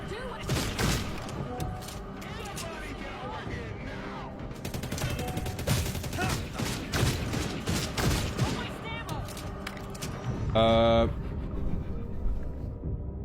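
Rapid video game gunfire with bursts of shots and mechanical clatter, loud and dense throughout, with a brief tonal game sound near the end.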